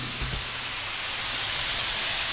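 An air compressor tank's drain valve blows out a loud, steady rush of hissing air close by, with a brief low thump at the start.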